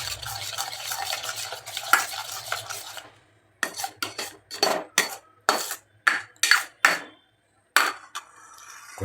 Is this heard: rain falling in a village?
no